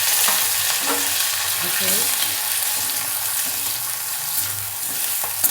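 Cumin, onion, tomato and curry leaves sauté in hot oil with mustard seeds for a bitter gourd dish, making a loud, steady, close sizzle throughout with a brief spoken word over it.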